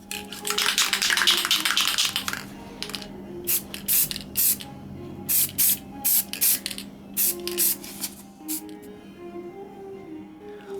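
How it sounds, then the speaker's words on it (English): Green spray paint hissing onto small model pine trees in a workshop, delivered in a long opening burst followed by a series of short, evenly spaced spurts, close and fairly loud. "Time for a little green spray paint."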